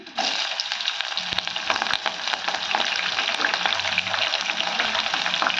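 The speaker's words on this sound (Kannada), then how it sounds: "ಬೇಳೆ ಕಡ್ಲಿ ಬೇಳೆ ಶೇಂಗಾ ಬೀಜ ಎಲ್ಲ ಚಂದ ಫ್ರೈ ಆಗ್ಯಾವ್ರಿ" Chana dal, split gram and peanuts fry in hot oil for pulihora, giving a loud, steady close-up sizzle with faint stirring scrapes throughout.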